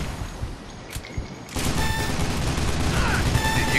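Heavy sustained gunfire with burning bullets in the shooter game Load Out, a few sharp isolated shots giving way to a dense, continuous roar of rapid fire that stays loud to the end, with a voice faintly mixed in.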